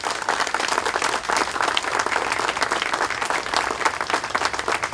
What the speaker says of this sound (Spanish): Démosle un aplauso a Tomás.